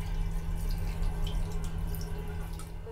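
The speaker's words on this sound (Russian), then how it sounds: "Водичка, все работает." Water runs in the shower cabin of a double-decker train, a steady close hiss and spatter with a faint droning hum beneath it and no talk.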